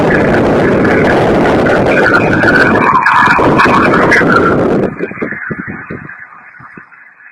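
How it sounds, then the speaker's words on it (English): A car drives past on a roadside in New Hampshire, a loud close roar with tire hiss that swells and then fades quickly as it moves away, leaving a faint rumble and wind. "There's a car that's coming by."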